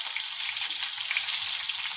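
Onions fry in hot oil with mustard seeds and cumin, giving a continuous, close, crackling sizzle that stays even and unbroken from start to finish.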